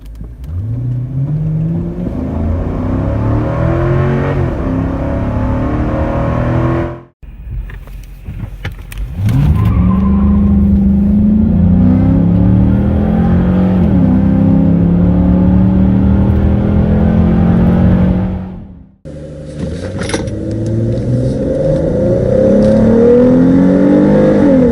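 A Chrysler 300 sedan accelerating hard during 0-60 and quarter-mile runs, its engine rising loud and close in three long pulls, each broken by a brief drop between runs.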